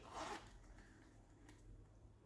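A small zipper on a travel kit pouch is pulled once in a brief, soft rasp, very quiet and close, followed by faint rustling.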